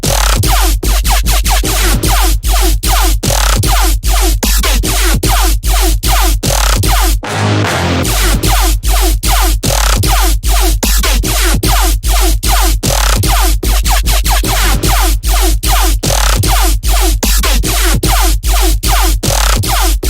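Heavy riddim bass synths play soloed in a loud, dense, wobbling pattern with rhythmic pulsing chops and deep sub-bass throughout, broken by one brief gap near the middle.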